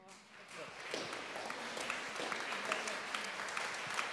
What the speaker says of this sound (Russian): И еще раз ваши огромные аплодисменты выдающемуся человеку.